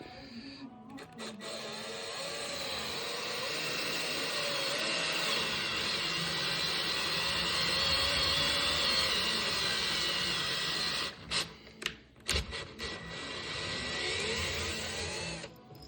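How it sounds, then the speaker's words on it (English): A drill with a 1 inch boring bit drills down into a hockey puck, running for a long stretch with a steady whine and grinding that rises and falls, then stops in a few short bursts near the end. "we have a 1 inch diameter boring drill bit. And so we're just gonna drill down into that"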